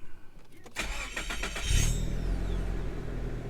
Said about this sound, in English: Let's put it in neutral, start it up.